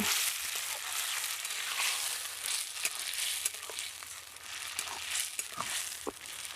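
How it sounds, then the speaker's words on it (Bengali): Cabbage frying with a paste of tomato and onion in a pan, a continuous close sizzle broken by soft scrapes and occasional clicks of a spoon stirring, moderately loud, with no talking. "সেই বাঁধাকপিগুলো দিয়ে দিচ্ছি দিয়ে একসঙ্গে নাড়াচাড়া করে এগুলোকে ভেজে নেব"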